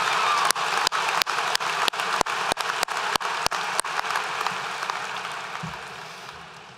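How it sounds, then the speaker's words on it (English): Audience applause for IB diploma candidates at a school awards ceremony: a full crowd clapping with a sharp, regular near clap pulsing through it, the noise thinning and tapering off over the last couple of seconds. "Let's give all of our IB diploma candidates a round of applause."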